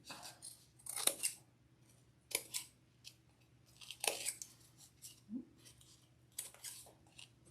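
Scissors trim felt around a foam board wreath form, giving a series of crisp, close snips in irregular clusters, separated by quiet pauses, with no talk.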